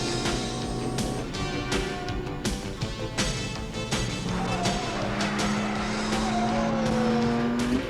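Race cars roar and skid with squealing tires in the Pole Position video game, engine tones rising and sliding continuously over about eight seconds amid dense arcade music and effects.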